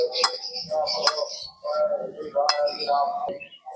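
A spoon clinks against a bowl while salt is mixed into raw mango puree, several bright taps and scrapes in short bursts, with a voice talking over them.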